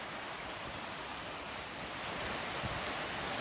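Heavy rain pours down steadily onto a bird's nest outdoors, a dense, even hiss of falling water with slight swelling toward the end and no voices.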